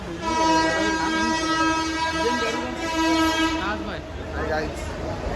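A train at a crowded Thane railway station, with a sustained loud horn-like tone over the steady rumble and bustle of the platform. Voices and crowd noise mix in throughout.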